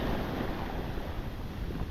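Ocean waves rolling up a soft sandy beach in Long Beach, a steady broadband wash of surf mixed with wind buffeting the microphone, no voices.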